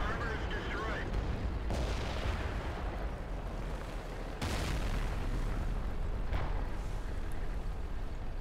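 In World of Tanks, with a KV-3 near a corner, artillery fire lands as heavy booming impacts over constant rumbling battle noise, with a voice talking throughout.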